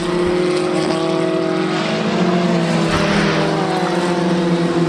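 Historic Formula Ford 2000 race cars at Snetterton circuit, engines roaring steadily and loudly at high revs throughout as they run past, a dense continuous racing drone.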